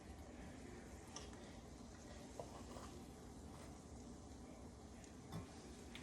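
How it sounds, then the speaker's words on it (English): Butter sizzles and caramelizes in a pan with sliced plantains being fried, a faint, steady crackling hiss with occasional light clinks of a utensil against the pan. "you see the butter is starting to sizzle? It's caramelizing."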